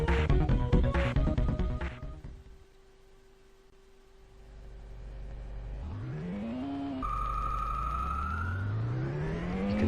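A Ferrari's engine revs in the Amiga racing game Test Drive, a synthesized whine whose pitch climbs steadily as the car accelerates, briefly drops at a gear change, then rises again after a clattery start.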